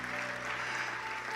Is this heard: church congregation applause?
yes